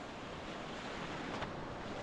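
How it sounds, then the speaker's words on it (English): Sea waves roll onto a stony, shallow bay in Malta in winter, a steady washing surge with a faint crest near the end, mixed with wind noise on the microphone. "So it's gonna be a challenge to take a swim, as there are some waves also coming in."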